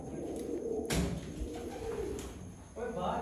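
Pigeons kept by a fancier in Sialkot coo softly in short repeated phrases, fairly close, with a sharp knock and faint background voices around them.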